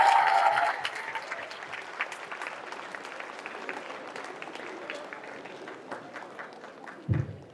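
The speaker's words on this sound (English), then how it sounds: "Give a round of applause for one of the finest surgeons." Audience applause for a surgeon at a medical exam coaching event, starting loud with a cheer then settling into steady mid-distance clapping that gradually thins.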